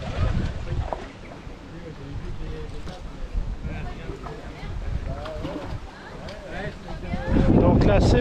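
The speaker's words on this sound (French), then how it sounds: "il y a beaucoup de vent, j'espère qu'on va m'entendre" Strong, gusting wind buffets the microphone in a steady low roar at a float tube fishing competition on the Vilaine river, with a voice speaking underneath and a louder blast near the end.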